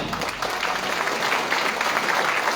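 A large crowd at a political alliance congress in Vacoas applauds loudly, a thick, continuous clatter of many hands holding steady for a few seconds without speech.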